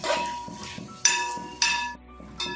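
A utensil stirs sliced onions in coconut oil in a pan for duck mappas, giving a few sharp metallic clanks and scrapes against the pan, spaced about half a second apart, over a soft sizzle.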